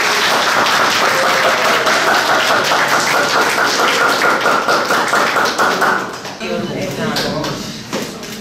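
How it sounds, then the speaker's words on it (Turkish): Classmates clap for a student at a school report-card day in Şanlıurfa: loud, dense clapping with tapping for about six seconds, then it drops off and quieter room sounds and voices follow. "Arkadaşınızı alkışlayın."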